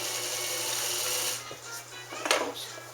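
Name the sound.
Morse straight stitch sewing machine winding a bobbin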